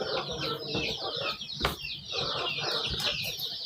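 Chickens on a small home poultry farm cluck busily at feeding time as they gather for food, with continuous overlapping calls and a few louder squawks nearby.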